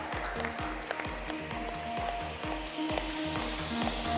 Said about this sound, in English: Huge round of applause as he comes to the dais